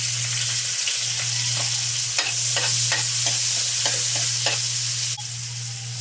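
Garlic sautés in a hot pan with a constant crackling sizzle. A utensil stirs it in scattered scraping strokes over a low steady hum, and no one speaks.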